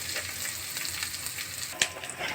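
Food sizzling and frying in a pan on a home stove, a steady close crackle with a few sharper pops near the end.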